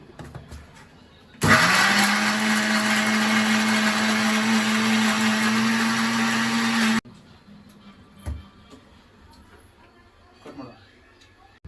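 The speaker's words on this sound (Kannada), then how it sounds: "ತರಿಯಾಗಿ ಗ್ರೈಂಡ್ ಮಾಡ್ಕೊಳ್ಳಿ" A mixer grinder coarsely grinding with a little water runs loudly for about five seconds with a steady whirring motor, then stops; faint background noises follow.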